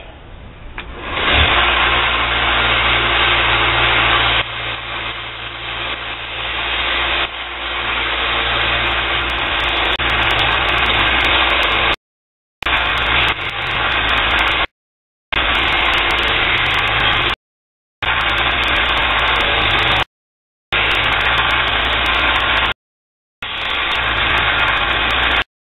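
A belt grinder fitted with a 120 grit belt sands a bottle-shaped knife handle. It gives a loud, steady motor whir with a grinding rasp, running continuously and broken by several abrupt cuts to silence.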